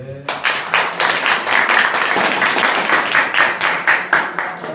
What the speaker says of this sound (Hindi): आकांक्षा के लिए जोरदार ताली।